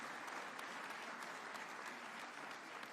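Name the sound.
audience applause at a conference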